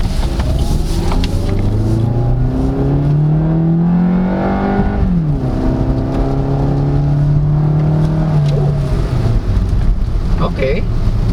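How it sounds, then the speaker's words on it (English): A 2023 Suzuki Ertiga GLX automatic hybrid on the move, heard from the cabin: a steady drone with a tonal electric-motor whine that rises, dips and climbs again over constant road noise. "you can actually hear the electric motor"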